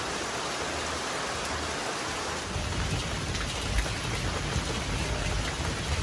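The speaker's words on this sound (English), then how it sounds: "Pretty windy" Strong autumn wind gusting near Lake Superior on the Keweenaw Peninsula, a steady loud broadband roar that deepens and builds after a few seconds, with no one speaking.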